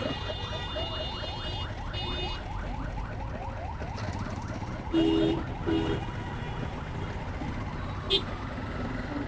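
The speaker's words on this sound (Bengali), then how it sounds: "অ্যাম্বুলেন্সের হর্ন হয় যথাই বাজে এটা।" An ambulance siren sweeps up and down through congested traffic near the Mohakhali bus terminal in Dhaka, steady and fairly close amid engine noise, while a person talks over it.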